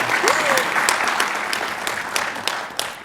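Sustained audience applause at the Oxford Africa Business Forum, dense even clapping with a few sharper claps standing out and a brief voice underneath, fading slightly toward the end.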